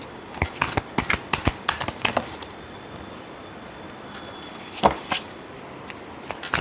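Tarot cards are shuffled by hand in quick, crisp bursts of riffling and tapping, close up, with a lull in the middle before a few final snaps.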